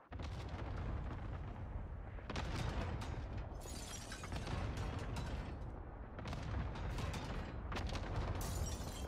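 Dense, continuous barrage of explosions and gunfire from an airstrike in a shooter video game, with heavy booming bursts layered over sustained rattling blasts for the whole stretch.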